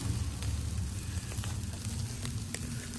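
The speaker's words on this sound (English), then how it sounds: "going hibachi style, just straight over the flames, over the fire. Let that thing go ahead and cook up." Steak kabobs grill hibachi-style straight over charcoal and mesquite flames, a steady close sizzle and crackle of fire running throughout with a few sharper pops and no talk.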